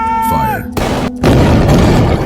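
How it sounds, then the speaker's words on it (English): A single loud musket volley fired at point-blank range in a dramatised 1706 battle, erupting as one sharp massed boom after a brief tone and rumble, then rolling on as sustained noise. "A single devastating volley, delivered at point-blank range."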